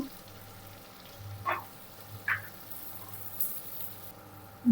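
Tomato and capsicum cooking in a pan for Spanish rice, a soft, faint sizzle with a few light stirring clicks and pops, and no talk.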